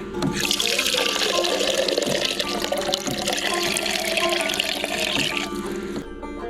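Water gushes from a refillable 7-gallon water container in a steady, close pour that runs continuously before cutting off near the end.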